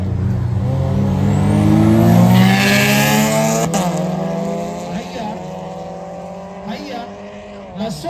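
Race cars, a 6-speed manual against a 5-speed manual, accelerate hard in a rolling race on ICD Road, Nairobi, engines rising through the gears with loud revving that sweeps upward and then fades as they pull away, with crowd noise throughout.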